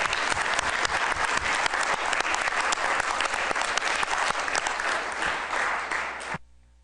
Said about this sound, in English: So I suggest we give him a round of applause